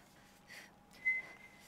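A brief two-part whistle calls a mount in Horizon Zero Dawn, faint and thin against quiet ambience, the second note sharper and slightly louder.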